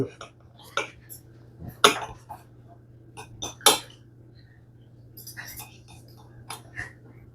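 Knife and fork work through a cooked steak on a plate in a home kitchen, giving a few sharp clinks and scrapes of cutlery against the plate, spaced irregularly over a low steady hum, with soft voices nearby.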